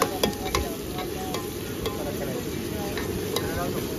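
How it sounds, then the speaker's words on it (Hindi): Chopped onions sizzle and crackle steadily in hot oil over medium heat while being browned, with a spoon scraping and stirring through them in several close, irregular strokes, no voices. "अब इसको भूनेंगे, ब्राउन करेंगे, और आंच वैसी आपको रखनी है, मीडियम आंच में आपको इसको पकाना है।"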